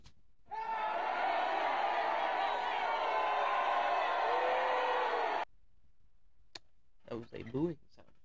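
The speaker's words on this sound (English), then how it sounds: "That was a booing sound effect, if you could not tell." A booing crowd sound effect plays as a sustained mass of voices for about five seconds, then cuts off abruptly, followed by a click and brief indistinct vocal sounds.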